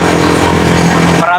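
A noisy trike engine runs with a rough, steady motorcycle-like rumble and buzzy harmonics, then cuts off abruptly at the end.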